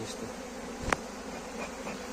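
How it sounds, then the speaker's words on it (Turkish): Steady buzzing of a honeybee swarm, fairly soft and constant, with one brief sharp click partway through. "Çok arı var."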